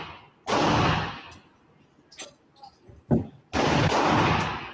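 Loud bursts of AK rifle fire from a zombie shooting video game come in two long sustained volleys with scattered single shots and thumps between them, close and dominant.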